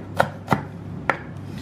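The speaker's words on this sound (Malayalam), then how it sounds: "അപ്പോൾ ഞാൻ ബാക്കിയുള്ള സവാള കൂടെ ഒന്ന് ചോപ്പ് ചെയ്തെടുക്കാം." A knife chops onions on a cutting board for a Kochi-style beef vindaloo, three sharp, close thuds spaced unevenly over under two seconds, with no voices.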